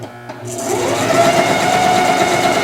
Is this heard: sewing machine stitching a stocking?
yes